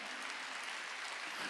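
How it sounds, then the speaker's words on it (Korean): A church congregation claps hands together during a Wednesday worship service, a dense, steady wash of applause lasting the whole moment with no pause. "박수 치라니까"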